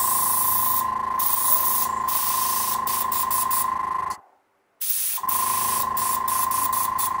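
An airbrush sprays free-flowing paint with a steady, close, loud hiss. The hiss cuts out for about a second near the end, then resumes just as strongly.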